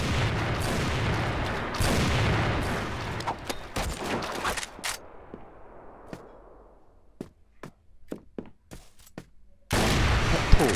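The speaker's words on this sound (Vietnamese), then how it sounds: "Con FRF2 này bắn thì anh em bắn đơn cũng khá là phê." Sniper fire from an FR-F2 in the shooter game CrossFire, a run of sharp single shots and booms, dense and loud early, then sparse isolated cracks over a quiet stretch before a loud burst returns.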